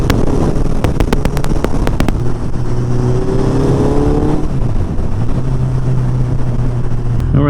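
A Suzuki Hayabusa motorcycle accelerating on the road, its engine a loud, close, steady drone rising and shifting in pitch, with heavy wind buffeting the microphone throughout.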